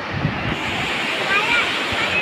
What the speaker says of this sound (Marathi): समुद्र पूर्ण खवळलेला आहे.